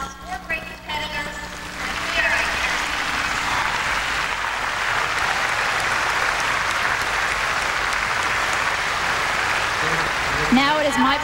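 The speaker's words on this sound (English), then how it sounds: "nice round of applause" A crowd at the 1999 US Open tennis breaks into sustained applause, steady and full for several seconds before tapering off as a voice returns.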